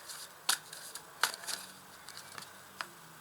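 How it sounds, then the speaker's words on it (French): Tarot cards being laid down onto a spread, giving a few soft, close slaps and light papery flicks, spaced unevenly across a quiet room with no talking. "Alors, on va rajouter des cartes ici."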